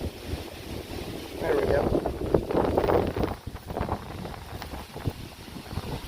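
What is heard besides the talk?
strong wind while fishing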